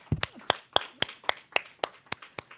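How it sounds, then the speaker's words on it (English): A small audience claps in a short, even rhythm of about ten separate, crisp claps, close and fairly loud, with brief gaps between each one and no voices over them. "Let's give her a round of applause."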